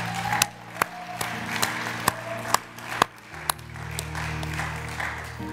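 Church congregation clapping for new members during a service: sparse, evenly spaced hand claps from a small group, each sharp and distinct, over a low steady hum.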